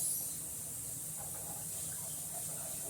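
Cranberries being rinsed under a running kitchen tap, a steady, soft broadband rush of water close by with faint shifting splashes, no talking.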